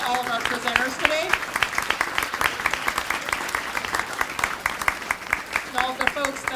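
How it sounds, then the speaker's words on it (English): Audience applause for the presenters at a university MLK Day focus session on race, steady dense clapping filling the room throughout, with voices in the crowd audible beneath it. "Please give a round of applause to all of our presenters today."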